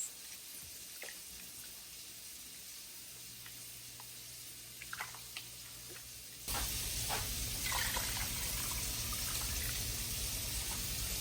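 Water runs steadily into a 7-quart pot of chicken noodle soup, starting partway through and growing louder and fuller, with a few faint clinks before it.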